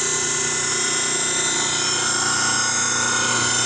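Reid surface grinder running steadily in a shop, a continuous dense whine with high tonal hum and no change in level, heard alone without talking.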